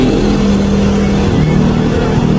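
3000-watt generator engine running hard at high RPM while charging an electric car, a loud, steady droning roar with a constant low hum and no pauses.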